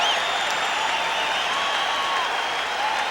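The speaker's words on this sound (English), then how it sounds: "Listen to the crowd as the Celtics have come back" Roaring basketball arena crowd cheering at a 1986 NBA playoff game in Boston as the Celtics come back against the Bulls, a loud continuous wash of voices and applause throughout.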